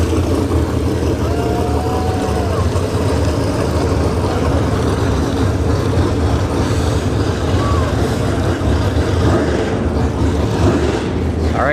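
A nitrous Monte Carlo drag racing car rumbles steadily, a loud, continuous engine roar that stays dense and even throughout, with a faint voice underneath.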